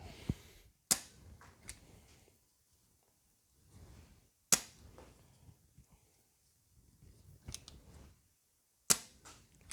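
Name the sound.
foam dart blaster firing AccuStrike darts at a net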